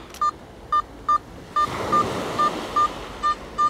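Beeping target tones from a Simplex Ultra metal detector played through its speaker during beach detecting: a steady series of short, evenly spaced beeps about every half second over a wash of surf and wind.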